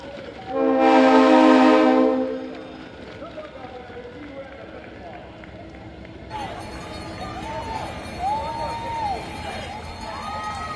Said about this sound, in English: I loved hearing that train horn.